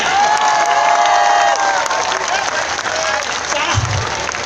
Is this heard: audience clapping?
yes